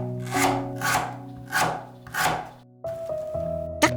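Knife slicing lemongrass stalks into rings on a board, a series of rhythmic crisp cuts roughly every half second, close and distinct, over a low steady hum.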